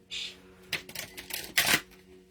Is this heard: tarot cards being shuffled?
yes